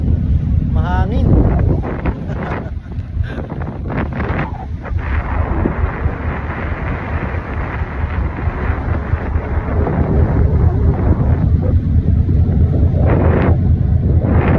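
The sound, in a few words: strong wind at sea on a boat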